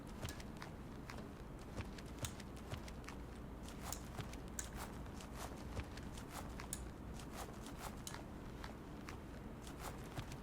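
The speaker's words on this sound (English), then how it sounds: "It's definitely several sets of footsteps inside." Faint, steady footsteps of several people moving about indoors in the retro shooter Dagger Directive, a quick scattered patter of soft clicks and taps over a low background hum, with no talking.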